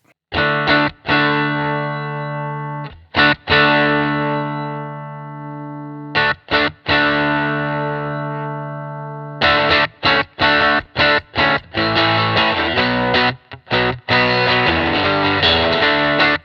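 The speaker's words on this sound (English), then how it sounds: "just overdriving the input preamp, but the tape is still staying relatively clean" Distorted electric guitar chords, overdriven through a cassette recorder's input preamp, ring out, first sustained with gaps, then strummed in a quicker rhythmic pattern, loud and gritty.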